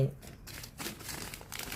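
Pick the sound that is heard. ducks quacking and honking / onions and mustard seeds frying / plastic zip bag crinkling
plastic zip bag crinkling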